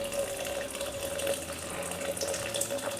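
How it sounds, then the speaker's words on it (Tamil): Hot water is poured into a simmering pan of bitter gourd theeyal, a steady, moderately loud rushing water flow that continues evenly throughout with no talking. "நம்ம சுடு தண்ணி சேர்த்துக்கலாம்"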